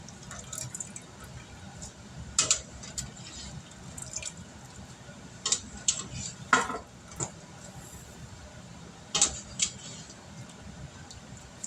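Taco spaghetti noodles stirred in a cooking pot, soft wet squishes and clinks of a utensil against the pot in irregular bursts over a faint background hum.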